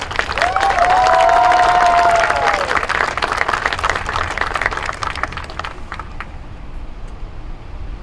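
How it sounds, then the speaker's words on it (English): Loud audience applause at a high school NJROTC inspection and pass-in-review ceremony: dense, sustained clapping with a few cheers that holds strong for about five seconds, then thins out and fades. "Please give her a round of applause."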